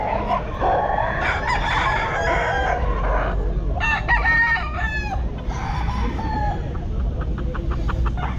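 A gamecock stag at a busy pet market crows repeatedly, loud and close, with clucking and other fowl calls mixed into the steady crowd background.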